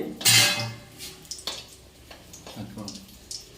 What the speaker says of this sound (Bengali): বেশ খুন্তি দিয়ে একটুখানি নাড়াচাড়া করার পরে